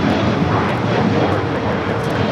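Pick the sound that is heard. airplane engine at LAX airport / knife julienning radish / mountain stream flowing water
airplane engine at LAX airport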